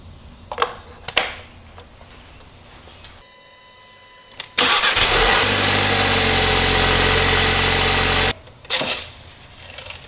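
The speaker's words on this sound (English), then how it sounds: "I'll start the car and then we'll add from there." A VW Beetle engine cranks and catches, then runs at a loud, steady roar for several seconds before cutting off abruptly, with light clunks from work on the car before and after.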